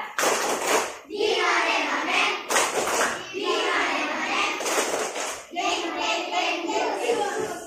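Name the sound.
class doing a rhythmic spirit clap (tepuk semangat)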